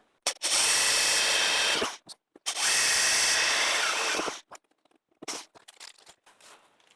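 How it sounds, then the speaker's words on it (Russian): A cordless drill whirs loudly in two sustained bursts of about two seconds each, drilling a hole in a car door to mount a central locking actuator, followed by a few short clicks and rattles. "Теперь берем шуруповерт и сверлим отверстие."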